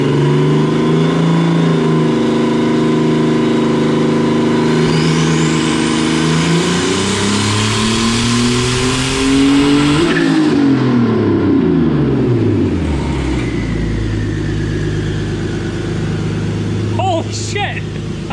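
A ZKart's engine revs hard through a full dyno pull, a loud sustained roar whose pitch climbs, drops and climbs again over about eighteen seconds, with a brief voice near the end.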